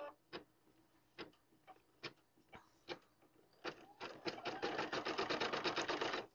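An embroidery sewing machine stitches a monogram onto a towel. A few sparse, faint ticks come first, then a steady, rapid mechanical chatter of stitching builds and runs on, close by with no talking.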